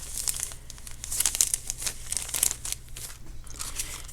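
A plastic baggie full of decorating goodies, including eyelash trim, is handled with continuous crisp crinkling and rustling, close and bright, in irregular bursts.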